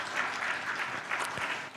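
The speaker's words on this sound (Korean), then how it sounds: "우리 박수로 한번 축복할까요?" A church congregation applauds to bless a choir after a hymn during a Korean sermon service, a steady wash of many hands clapping at moderate distance, fairly soft and continuous with no voices over it.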